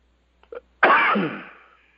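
A short catch of breath, then one loud, harsh explosive cough that fades over about a second, close by in an otherwise quiet room.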